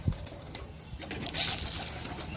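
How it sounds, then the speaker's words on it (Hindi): Pigeons cooing and shuffling close by as they gather to be fed grain, soft murmuring calls with a brief brighter flutter midway. "सब आ रहे हैं कबूतर"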